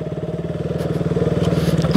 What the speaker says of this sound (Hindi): भाई देखो ऑफ रोडिंग चल रही है यार, बाइक से ऑफ रोडिंग कर रहे हैं भाई